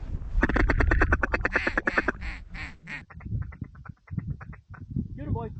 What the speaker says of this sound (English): Oh, that's a big group of ducks,